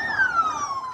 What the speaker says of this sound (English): Sirens blare intermittently on streets while police vans conveying security operatives on election duty were sighted at different locations.